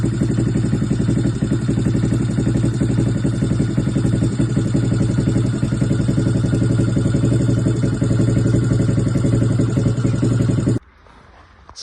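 A pit bike engine runs close by with a steady, buzzy mid-pitched drone and slight mechanical clatter for about eleven seconds, then cuts off abruptly, leaving near silence.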